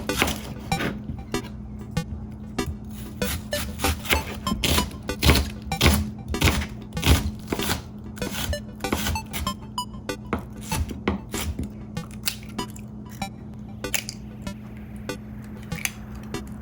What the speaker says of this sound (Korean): 양배추랑 양파를 아주 조금만 준비해서 채 썰어줍니다.